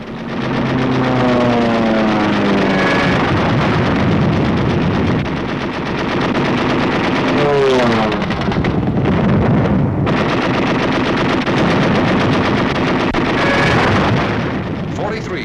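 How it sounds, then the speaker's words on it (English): Anti-aircraft flak and gunfire over bombing targets, rendered as dense continuous machine-gun bursts and booming fire with wind-like roar throughout, loud and close, with swooping engine or siren tones rising in places. "Over all these targets, flak was intense and accurate."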